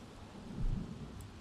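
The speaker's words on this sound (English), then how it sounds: "there's a storm coming in" Thunderstorm in The Sims 3 video game, a brief low rumble of thunder swelling and fading over a soft wash of rain noise, with no talking.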